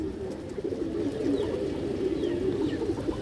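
A ring-eyed female pigeon of an old breed coos steadily at close range, a continuous low murmuring call with no talk over it.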